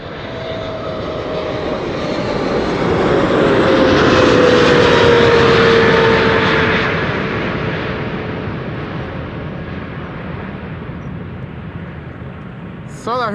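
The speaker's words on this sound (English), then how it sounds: "747 is rolling." A Turkish Boeing 747 takes off on the runway at Schiphol Airport, a heavy, broad engine roar swelling steadily as it rolls, peaking, then fading slowly into the distance.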